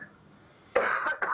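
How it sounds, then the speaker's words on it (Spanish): A woman with a tickly throat gives a few quick coughs close up after a moment of quiet, two short harsh bursts in a row. "Sí, tengo un poco de tos en la como la garganta"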